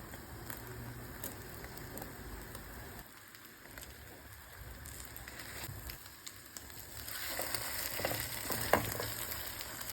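Slices of banana bread toast in a frying pan with a faint, soft sizzle and scattered small crackles that grow a little livelier near the end.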